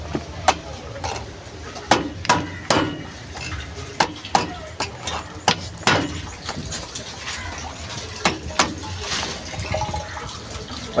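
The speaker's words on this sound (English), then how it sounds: "We hit with the hammer." A hammer strikes the joints of shallow borehole drilling pipe with repeated sharp metallic knocks at an uneven rhythm, close and fairly loud over outdoor background noise.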